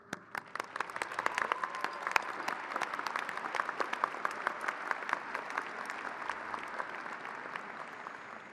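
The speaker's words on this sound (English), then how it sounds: "hopefully a round of applause tonight will do" Audience applause for teachers at an evening event, a dense, steady clapping from a crowd that starts abruptly and holds at an even level throughout, with sharp individual claps standing out.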